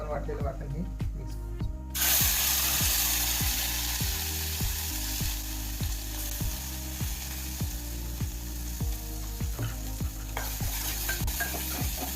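Spoon scraping and stirring a ground masala paste into spices frying in a pan, rhythmic strokes roughly every half second over a steady close sizzle, with a louder hiss as the paste goes in.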